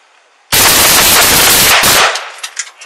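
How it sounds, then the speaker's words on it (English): Gunfire erupts during a police shooting incident, a loud, dense burst of rapid shots lasting about a second and a half, then trailing off into fading echoes and scattered noise. "Shot fired."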